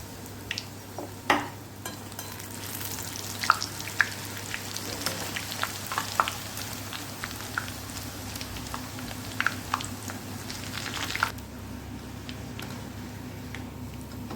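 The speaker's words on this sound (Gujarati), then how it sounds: "હવે આવી રીતે આપણે તળી લઈશું કડક તળવાનું એકદમ ક્રિસ્પી" Wheat flour snacks deep frying in hot oil give a steady, close bubbling sizzle, dotted with small crackles and pops throughout.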